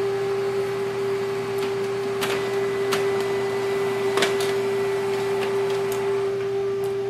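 An HP Color LaserJet Pro MFP M283fdw laser printer printing, a steady electronic whine and mechanical hum with scattered light clicks and ticks as paper feeds through, heard up close with no talking.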